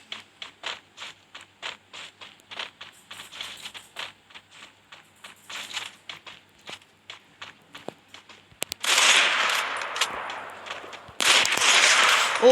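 Gunfire in the Free Fire video game: a long run of sharp, evenly spaced single shots, then two louder, dense bursts of rapid fire near the end.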